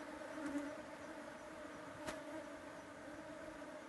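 Honey bees around a hive in Kenya during the nectar build-up season give a faint, steady buzzing drone, with a couple of brief louder passes of single bees flying close by.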